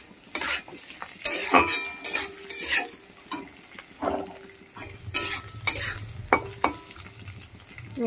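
Diagonally cut beans tossed into a pan for chili paneer, with repeated scraping stirs and utensil clinks against the pan over a soft frying sizzle; no talking.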